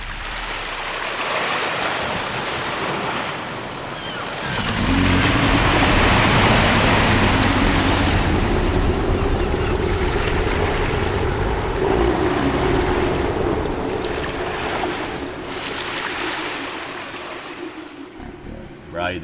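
Heavy ocean waves surge and roll in a dramatized audiobook of Lovecraft's The Call of Cthulhu, a loud, continuous wash of churning water that swells after a quiet start and stays dense throughout.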